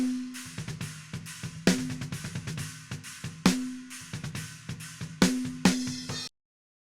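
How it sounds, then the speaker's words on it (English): Snare drum close mics summed in a mix with only a gentle high-shelf boost, giving a steady groove of punchy snare hits with ringing body tone alongside the kit, playing alone for several seconds before stopping abruptly. "Snares together sound like this."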